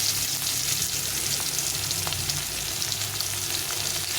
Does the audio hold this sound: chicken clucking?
no